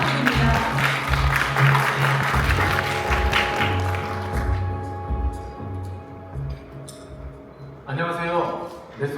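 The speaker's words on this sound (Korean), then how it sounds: "큰 박수 부탁드립니다" An audience at a corporate tech-day presentation breaks into loud, dense applause for several seconds before it thins out and fades, with a steady tone and some talk carrying underneath.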